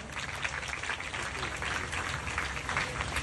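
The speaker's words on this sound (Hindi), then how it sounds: "आप सभी इनका इनके सम्मान में तालियां बजाएं।" An audience at a Maha Rudra havan yajna claps for Vivek Verma, a steady, loud wash of many hands applauding continuously without a break.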